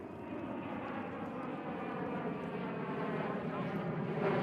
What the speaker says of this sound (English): Oh, plane is loud.